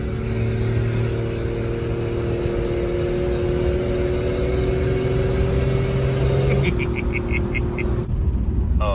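Slant-six engine in a 1963 Plymouth Valiant running under light boost, fed through a Carter BBD carburetor: a steady, loud mid-range drone with a rising whine, shifting tone near the end.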